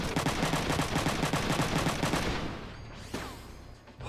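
Rapid burst of video-game gunfire from the double shot skill in Front Mission 3, a loud rattling volley of evenly spaced shots for over two seconds that cuts off, leaving a fading tail and a lone later impact.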